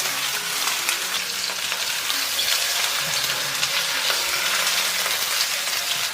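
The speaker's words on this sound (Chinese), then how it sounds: "当煎到这个鱼啊，可以在锅里面轻松滑动的时候，就可以翻身了" Fish pan-frying in a wok gives a steady, close sizzle with soft crackling and the occasional scrape or shake of the pan, holding an even level throughout with no voices.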